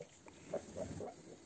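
A sow grunts during farrowing in a straw-bedded pen, giving a few soft, low grunts spread across a short, fairly quiet moment with no voices.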